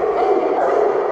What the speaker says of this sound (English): the only dog that's barking is that dog